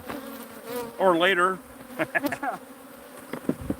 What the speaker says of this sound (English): Look at all the bees on the brood comb over there.